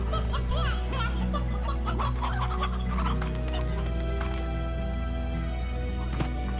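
Chickens cluck in the Slime Rancher game at a ranch, with busy repeated calls over a steady low background hum and no talk.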